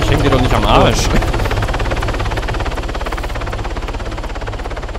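A helicopter in the video game Arma 3 Altis Life roars close and loud, its rotor chopping in a steady, rapid pulse while a voice talks over it early on.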